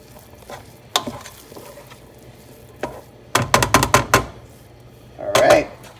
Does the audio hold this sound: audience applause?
no